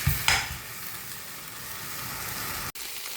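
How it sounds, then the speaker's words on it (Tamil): Murungai (drumstick) leaves sauté in a pan over medium heat with a steady, dense sizzle and a stirring scrape near the start, close and continuous, briefly cutting out near the end. "வதங்க விட போகிறேன்"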